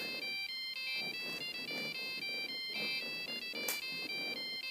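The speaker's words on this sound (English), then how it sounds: "I actually thought it was pretty catchy with the sound of the satellite phone ringing" The satellite phone ringtone from Jurassic Park III plays as a catchy electronic melody of repeating high tones in a steady pattern. It is moderately loud and clear over a low background hum, with no voices.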